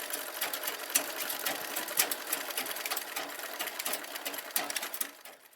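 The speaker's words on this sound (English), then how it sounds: "Sewing machines make noise and rhythm." Sewing machines running at a busy fashion workshop venue, a dense rapid mechanical chatter of needles with rhythmic bursts, continuous and fairly close, with no voices.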